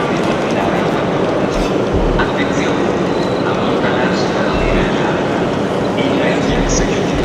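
An Italo high-speed train at a station in Turin, a loud continuous rumble and rolling clatter under steady background noise, with voices faintly present.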